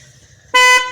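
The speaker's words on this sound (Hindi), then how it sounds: "हॉर्न," A Hero Splendor Plus motorcycle horn gives a single short, loud, buzzy honk of about a quarter second over a quiet background.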